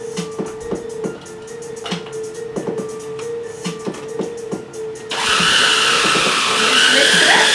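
Food processor pulsing walnut pesto ingredients with fresh leaves, a loud, even whirring drone that kicks in abruptly after a stretch of quieter clicks and knocks, then runs steadily to the end.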